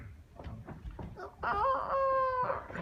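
A person imitates a rooster's morning crow, a few clucking syllables followed by a drawn-out, sustained vocal call, close and fairly quiet.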